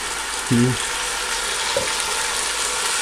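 Ginger, garlic and green chillies go into a hot pan on low flame for Lahori chana, giving a soft, continuous frying hiss with a brief voiced sound and a faint clink over it.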